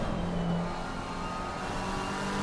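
Onboard engine of a McLaren race car in a sim racing game, a loud, steady high-revving drone that holds close with slight pitch shifts, with no talking.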